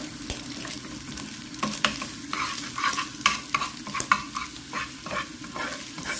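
Egg sprinkled with salt and black pepper is scrambled in a hot pan for a kebab mixture, with irregular scraping stirs and clicks of the utensil over a soft, continuous sizzle, close and alone.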